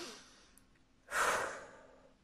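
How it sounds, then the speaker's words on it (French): A single forceful breath during a calming relaxation exercise: a quiet inhale, then a loud, sharp blow out that fades over about a second, close and alone. "vous allez inspirer et souffler fortement pour vous dynamiser"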